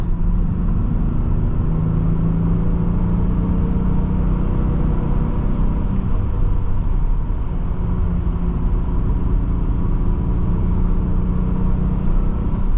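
A 1985 Nissan 300ZX climbing a hill under load, its engine holding a steady, loud, droning rumble with road and wind noise throughout, no voices over it.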